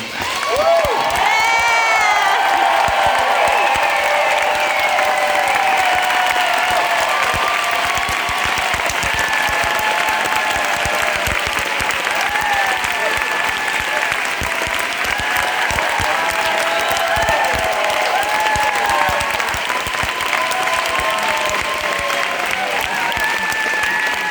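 Theatre audience at a Broadway closing night for Come From Away applauding and cheering continuously, dense sustained clapping with whoops and shouts throughout, loud and close.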